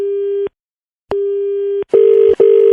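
A telephone line hums with a steady tone in two long bursts separated by silence, then a buzzier tone pulses twice, loud and close with nothing else around it.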